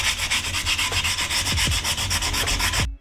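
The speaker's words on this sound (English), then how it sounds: "So I've just sanded everything down, not to bare metal of course" Rhythmic back-and-forth rubbing of 220 grit sandpaper on old car wheels being restored, a close, steady scratching with evenly repeated strokes that stops abruptly at the end.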